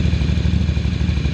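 A Ducati 800 Scrambler track bike engine runs on its first start, a loud, close, throbbing rumble with an even rapid pulse throughout the short burst.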